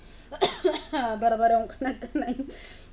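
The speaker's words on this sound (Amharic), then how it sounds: "ጉሮሮዬን አናቀናቀ እያደረገኝ ነው ማለት ነው።" Coughing brought on by throat irritation after eating hot chili pepper: one sharp, close cough burst, followed by throaty, strained voiced sounds and speech-like vocalising.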